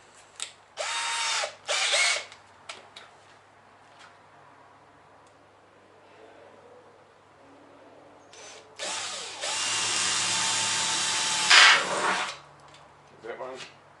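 An electric drill bores out holes in metal in a shed. Two loud, close whirring bursts, the second longer, are separated by quieter clicks and handling noises.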